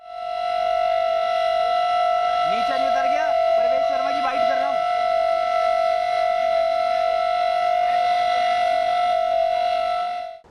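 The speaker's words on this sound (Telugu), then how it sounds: "ఇగో ఈ సైరన్ చూడుర్రి, ఇది 5-6 కిలోమీటర్ల దాకా వినబడుతుందట." A civil defense warning siren, said to carry five to six kilometres, holds one loud steady wailing tone from start to finish while someone speaks briefly over it.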